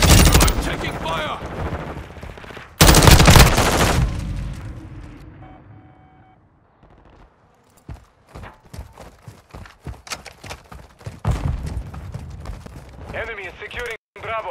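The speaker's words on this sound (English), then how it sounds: "Taking effective fire." Gunfire in a multiplayer shooter video game comes in loud close bursts of rapid automatic shots, then a quieter stretch of scattered single shots and footsteps, with radio voices calling out over the action.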